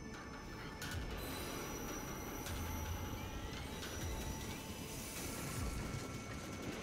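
A train rolls along a rail line in Assassin's Creed Unity, with a steady, faint rumble and thin squealing wheels throughout, and no voices.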